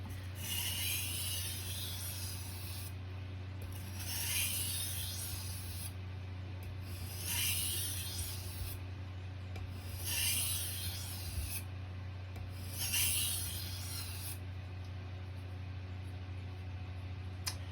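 A knife drawn across a whetstone in steady, evenly spaced rasping strokes, about seven of them, close and clear over a constant low hum, with no talking.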